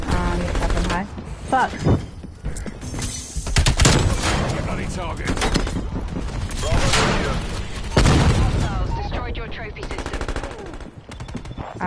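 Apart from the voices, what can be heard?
gunfire in the video game Call of Duty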